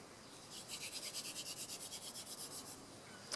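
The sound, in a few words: hand drill spindle rubbing wood to make fire by friction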